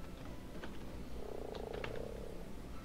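A frog croaks in the ARK video game, a short low buzzing croak rising briefly in the middle, fairly faint against a soft steady background with a few light clicks.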